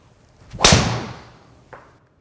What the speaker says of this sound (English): when you hit this one, it's got a slightly more pitchy sound